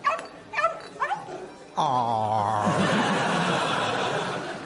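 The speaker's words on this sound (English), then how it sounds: "I'll just open this bag and show him this puppy." A puppy yips and barks in short bursts, then lets out a long, drawn-out whimpering whine that fills the rest of the moment, close and clear.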